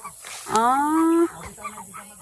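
A single loud, drawn-out honking call from a duck, close by on a farm, lasting under a second against quiet outdoor background.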